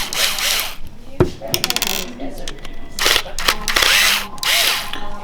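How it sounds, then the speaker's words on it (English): A small screwdriver backs out the two screws holding the blade of a cordless clipper, with irregular metallic scrapes, squeaky turning and a few sharp clicks and clatters up close. "we're going to take off the blade, and so that is these two screws here"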